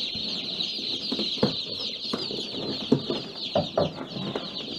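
Baby chicks of the Cuckoo Marans and Americana breeds chirp and peep steadily in a shrill, continuous chorus close by, with a few louder individual cheeps standing out and no talking.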